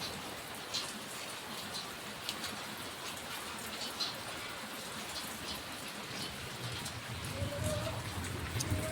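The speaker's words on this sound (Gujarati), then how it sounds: "વરસાદે વધી ગયા છે" Steady rain patters on a surface, a soft continuous hiss with scattered drops, slightly louder toward the end.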